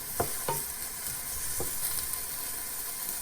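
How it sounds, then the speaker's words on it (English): Mushrooms stir-fried in oil for a tofu dish, with a steady close sizzle and three or four sharp scraping strokes of a spatula against the pan early on, no voices. "Stir fry again. When you see the mushrooms are already coated with oil,"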